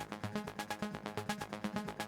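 Two synth arpeggios play together in Ableton Live, one set offbeat against the other, forming quick, rhythmic repeating notes in a fairly quiet, busy mix.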